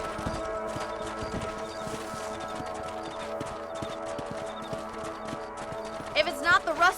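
Horse hooves clip-clop in a steady trotting rhythm in the Red Dead Redemption video game on a ranch property, close and continuous under music, with a brief whinny-like burst near the end.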